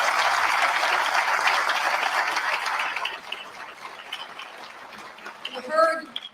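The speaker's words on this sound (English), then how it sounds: "Let's give another round of applause." Steady crowd applause at a GlobalFoundries funding announcement, a full wash of clapping that fades after about three seconds into scattered claps and room noise, then a voice begins speaking.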